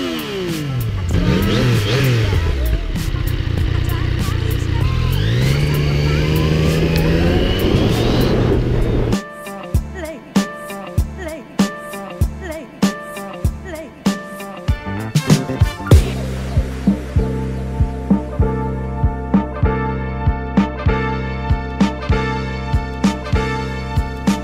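Yamaha MT-10 or MT-09 motorcycle on the road, a loud engine roaring and revving hard with rising pitch through gears, then wind rush and repeated sharp bumps and knocks as it speeds along.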